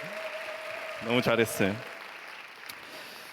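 A congregation at a church youth Sunday service claps steadily throughout, with a voice briefly speaking over the applause partway through.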